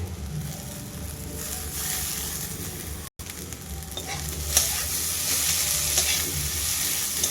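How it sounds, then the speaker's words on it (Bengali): Bitter gourd stir-fried with onion and chopped coriander leaves gives a steady, close, loud sizzle with stirring scrapes, broken by a brief dropout partway through; no one speaks. "এক মিনিটের মতো আমি একটু করলার সাথে ধনে পাতাটা মেশিয়ে নেবো"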